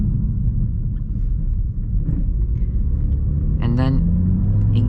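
A BMW car rolls at low speed, its deep road and engine rumble steady and close, with a voice talking over the drive.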